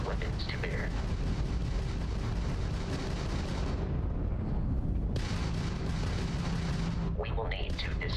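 Spaceship weapons firing in Starfield space combat, a dense barrage of heavy booming blasts and rumbling explosions, loud and continuous with short gaps, and a few sharp laser-like chirps near the end.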